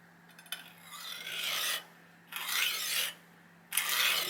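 A file rasping burrs off the edge of a damaged kitchen knife, three separate strokes with short pauses between, close and fairly quiet, under a faint steady hum.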